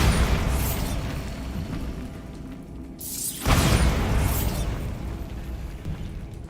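Bombarda blasting spell from the Hogwarts Legacy video game erupts in a loud, rumbling explosion, with a heavy low boom, a short drop-off near the middle and a second burst right after, then a long rolling decay with no talking.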